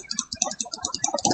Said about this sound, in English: And that's normal clicking